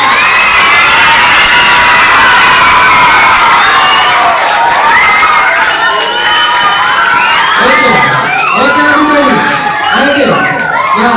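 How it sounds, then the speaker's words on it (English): A school audience at a debate competition cheers, whoops and shouts loudly and continuously for the contestants, with children's voices prominent and some voices rising above the crowd near the end. "Give them a big round of applause"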